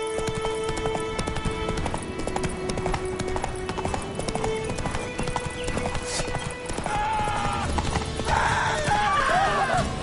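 Roach, the horse in The Witcher 3, galloping with a fast, steady clip-clop of hooves close up, mixed with game music and a brief whinny-like tone near the end.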